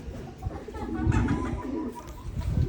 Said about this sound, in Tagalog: Ayan mga kalapatids